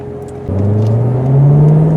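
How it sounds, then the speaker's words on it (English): A 2019 Chevy Corvette Convertible rolls over speed bumps at about 20 to 25 mph in touring mode, its engine droning steadily and swelling louder after a thump about halfway through, with a low rising hum continuing to the end. "Drive over speed bumps at 20 to 25 miles per hour to evaluate the suspension performance on impacts"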